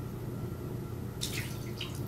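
Last few drops of water fall from an emptied bottle: a short run of light, close drips and splashes arrives after a second of quiet hiss, with no talking.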